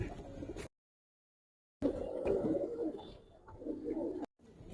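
Soft, low Giribaz pigeon coos rise and fall in a couple of murmuring phrases, close by, with brief gaps of silence between them.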